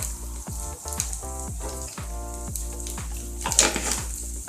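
Food sizzles and crackles steadily in hot oil in a pan, a close continuous frying hiss with a brief louder flare near the end.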